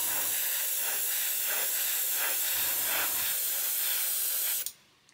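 Aqua Gloss clear coat hisses from an airbrush over a chrome-painted plastic model, a steady close spray with gentle surges that cuts off abruptly near the end, leaving near silence.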